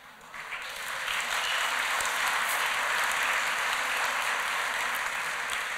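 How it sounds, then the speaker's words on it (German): Applause from an audience at a lecture swells within the first second into dense, sustained clapping that holds steady and fills the room. "Applaus."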